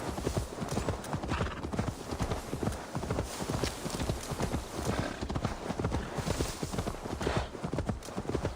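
Horse hooves clip-clop in a quick, steady rhythm throughout a ride in the game Assassin's Creed Valhalla. The hoofbeats are close and continuous, with a possible brief whinny.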